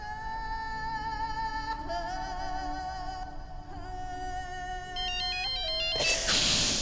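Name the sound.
mobile phone ringtone ringing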